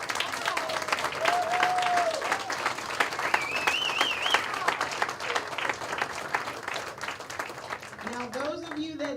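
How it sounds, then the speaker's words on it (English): Applause from a gathering at a celebration of life service, sustained clapping with crowd murmur, tonal whistles or feedback tones rising over it, and a voice speaking near the end. "Let's give her a round of applause."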